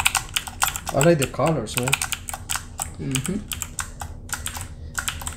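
Rapid clicking keystrokes on a Tropro one-hand gaming keyboard, close and crisp, come in quick bursts while someone talks over part of it.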